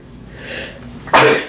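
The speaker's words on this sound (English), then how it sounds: "Sorry, I gotta sneeze." A single close, loud sneeze bursting out after a brief quiet intake of breath.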